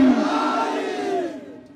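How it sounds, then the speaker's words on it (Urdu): Crowd at a religious conference chanting a slogan in unison, a loud, drawn-out collective cry of many voices that swells then fades away toward the end. "ایک دفعہ کہے لبیک یا حسین، لبیک یا حسین، نعرے حیدری"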